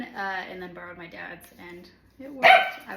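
A dog barks loudly and sharply near the end, close by, after a stretch of a person talking indoors during a kitchen banquette DIY project.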